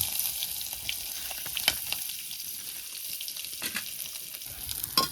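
Sliced onion and curry leaves fry in hot oil in a pan at a night jungle campsite, a steady soft sizzle with scattered crackles and light stirring scrapes, fairly quiet, no one talking.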